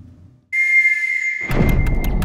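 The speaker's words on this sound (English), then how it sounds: "Whistle, if you can hear me." A single steady, high whistle tone holds for nearly two seconds, then continues under a burst of crackling noise and sharp clicks.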